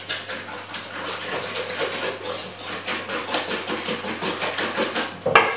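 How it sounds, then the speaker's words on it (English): Eggs and caster sugar whisked together in a bowl, a steady rapid scraping and tapping rhythm continuing close and fairly loud throughout, with no talk. "whisk them together"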